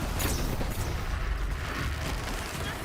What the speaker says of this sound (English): more explosions through